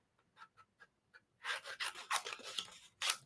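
Scissors cut through paper up close, a few light snips followed by a denser run of rasping, crunching cuts, with no voices.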